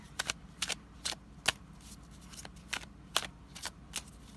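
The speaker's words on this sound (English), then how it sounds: "I'm going to give it one more shuffle" Cards are shuffled in quick, crisp riffling bursts, about a dozen short flutters spaced irregularly, close up in a quiet room.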